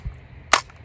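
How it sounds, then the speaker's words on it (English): A single sharp report from an M1885 Remington-Lee Navy rifle firing a 45-70 round, a short loud crack with a brief tail, alone. "We got maybe 10 minutes of good light left, so I'm just gonna shoot it."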